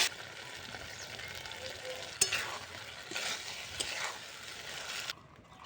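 Chilli powder, turmeric and ginger-garlic paste fry in a pan, a soft steady sizzle broken by a few scraping stirs, fairly close and alone with no voices.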